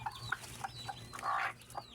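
Short, soft clucks from a hen that has just hatched chicks come in a loose irregular series, close by, with no talking.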